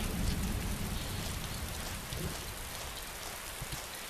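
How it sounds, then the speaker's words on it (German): Rain in the video game Arma 2 DayZ, a dense constant hiss of falling drops with a low rumble beneath, steady throughout without a voice. "Und es regnet."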